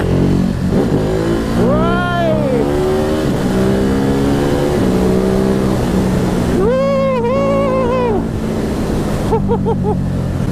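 Ducati Hypermotard 950 SP motorcycle engine revving on an open road, loud and close, with rising and falling rev sweeps over constant wind and road roar.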